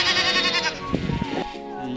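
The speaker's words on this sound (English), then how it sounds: "White sheep." A white sheep bleats in a long, wavering, nasal cry that fills most of the two seconds, then trails off into a weaker, broken bleat near the end, fairly close and clear with no talk.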